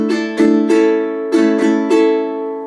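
Bright ukulele strums, six crisp strokes in two groups of three, chords ringing out between them and fading at the end; no speech.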